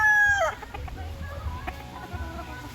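At a poultry farm with game fowl, a rooster crows loudly at the start, then chickens cluck and stir softly in the background.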